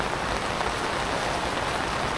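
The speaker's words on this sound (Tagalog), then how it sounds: "At medyo malakas ang konti itong ulan pero okay lang" Steady rain falls at a mining site in the Coto Mines area, a dense, even hiss of drops on surfaces that continues without break at a moderately loud level.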